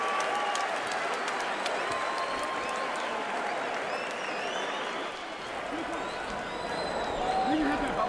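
Boxing arena crowd at a James Toney versus Samuel Peter fight, steady loud cheering and applause filling the whole stretch, with a brief dip midway before swelling again.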